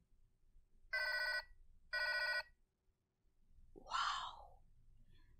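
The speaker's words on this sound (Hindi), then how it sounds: "तो ऐसी इसकी रिंगटोन है।" A phone ringtone plays two short, identical electronic bursts about a second apart, then a brief warbling tone follows; quiet and alone with no talk.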